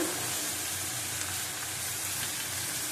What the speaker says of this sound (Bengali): ভালো করে ভেজে নেব চারটে লঙ্কা দেবো